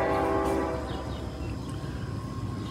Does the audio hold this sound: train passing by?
yes